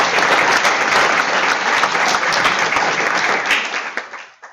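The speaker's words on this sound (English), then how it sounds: "So let's give Blake a round of applause" Applause for a student honored at a county board of education meeting, a dense steady clatter of many hands clapping in a meeting room that holds strong for about four seconds before tapering off at the end.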